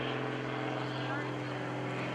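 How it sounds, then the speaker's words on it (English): An aerobatic propeller airplane drones steadily at an airshow at Greenwood Lake in 2013, a fairly faint, far-off engine hum, with a commentator talking over it. "Notice how crisp the maneuvers are with this airplane."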